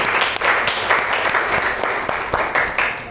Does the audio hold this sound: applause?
yes